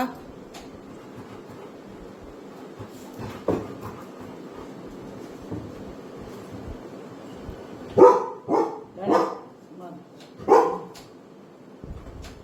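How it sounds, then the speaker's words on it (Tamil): A small dog barks several times in quick succession midway, then once more shortly after, over a quiet room with faint background noise. "குட்டி நாய்"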